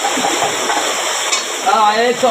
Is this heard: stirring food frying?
yes